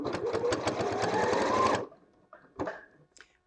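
A sewing machine runs in a fast, steady burst of close stitching for about two seconds, then stops; a few soft clicks and handling knocks follow as the fabric is turned at a corner.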